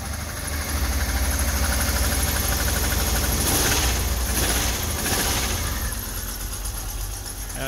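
A car engine with 206,000 miles, driven for days with the oil light on, idles roughly and unevenly, as if misfiring on only a few cylinders, with a steady loud vibrating rumble throughout.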